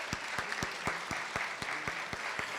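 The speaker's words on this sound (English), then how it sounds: "Can we give them a round of applause?" Applause for honorees at a Women's History Month celebration in Brooklyn, heard as a quiet, sparse run of regular, distinct claps at a steady rhythm with a faint crowd murmur behind, fairly distant.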